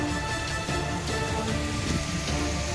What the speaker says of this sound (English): Yeah, it's really raining out here.